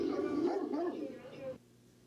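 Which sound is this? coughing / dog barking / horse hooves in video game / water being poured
dog barking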